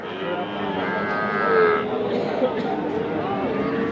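Calves and young bulls low and moo at a livestock market near the border, the calls rising over a steady din of crowd chatter and people talking nearby.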